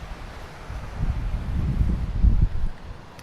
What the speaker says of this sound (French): Bah là il y a un bon petit vent là hein, quand même.